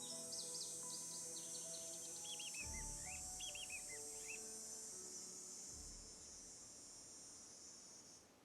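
Birds chirp in short high twittering bursts over a steady insect-like hiss of ambient night sound in the Nancy Drew: Ghost game, faint and somewhat distant, with low thumps in between.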